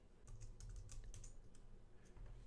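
Quiet typing on a computer keyboard, a short run of light, clicky keystrokes in small irregular bursts over a low steady hum, with no voices.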